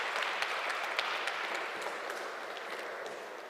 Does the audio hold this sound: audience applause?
yes